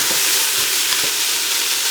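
Carrots and other vegetables sizzle loudly in a soup pot over high heat, a dense continuous hiss with faint stirring thumps underneath.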